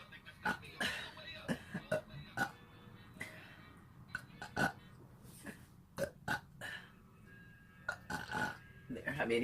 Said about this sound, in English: 28 burps